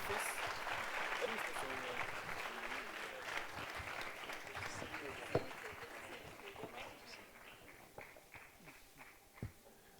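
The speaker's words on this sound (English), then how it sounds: "Please say a round of applause." An audience at a speaking event breaks into sustained applause that gradually thins and fades, leaving a few scattered, louder individual claps toward the end.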